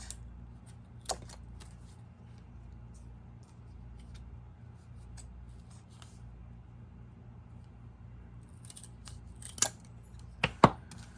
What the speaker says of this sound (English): I'm using a pair of craft scissors